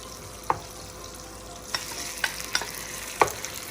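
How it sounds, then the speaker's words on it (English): Prawn shells fry in butter and oil with a soft, steady sizzle, while a wooden spoon knocks and scrapes the pan in several sharp, irregular strikes. "we're then going to add our prawn shells to the butter and oil"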